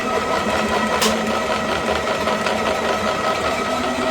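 A brand-new drain snake machine runs its cable with a steady, rattling mechanical whir and a rough, knocking vibration. It is close and continuous, with a brief higher squeal near the start.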